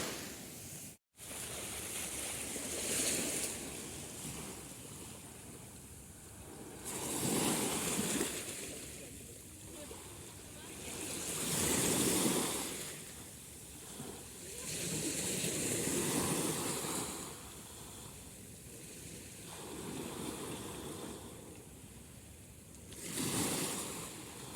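Rough sea waves surging and breaking at Ras Al Khaimah, arriving as broad swells of surf every few seconds over a steady wash of water, with no voices.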